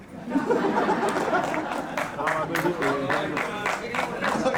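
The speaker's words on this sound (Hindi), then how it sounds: "एक्टरों ने ताली बजाई, आप देख रहे हो।" Actors at a film trailer launch clap in a loose burst of scattered applause, mixed with murmuring crowd chatter and voices in a busy indoor event.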